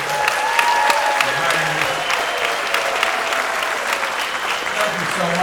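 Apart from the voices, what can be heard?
audience applause at a concert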